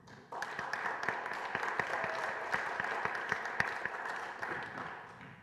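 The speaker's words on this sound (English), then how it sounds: "So this is our chance to applaud you." Audience applause at a progressive Democrats' Occupy event, a dense steady clapping from a sizeable crowd with a few sharper individual claps standing out, sustained at even loudness before easing off at the end.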